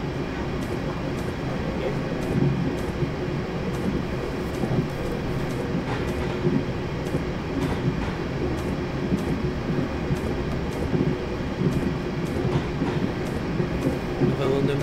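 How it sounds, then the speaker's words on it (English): A London Midland Class 350 electric train rumbles past in the Train Simulator 2019 game, a steady rolling drone with regular clicking wheel beats over rail joints throughout, and a voice talks briefly over it. "Another London Midland 350, sorry, going past."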